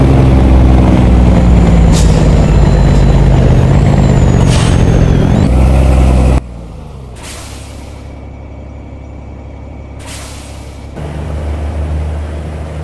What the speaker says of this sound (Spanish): escuchen este freno de motor